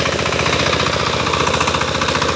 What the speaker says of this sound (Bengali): এটা সাইপিং 28 ফাল 25 এইচপি ডিজেল ইঞ্জিনের একটি পাওয়ার টিলার